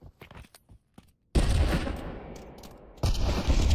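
Gunfire in the Pavlov VR shooter during a competitive match: a few faint scattered shots, then a dense loud burst of rapid fire that trails off, followed by a second burst near the end.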